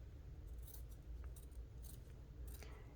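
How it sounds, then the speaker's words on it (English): Scissors cut paper closely around printed flowers, a faint series of short crisp snips in an uneven rhythm, close up and quiet with no talk. "fairly close around the flowers with my good scissors"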